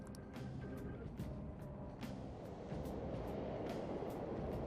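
A subway train runs in the Persona 5 Royal video game, a low, steady rumble that grows a little louder over several seconds, with faint clicks on top.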